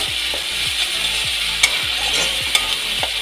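Fish roe stirred in a pan with mango paste over a very low gas flame, a soft sizzle under regular scraping strokes of a spoon, steady and close, with no talking.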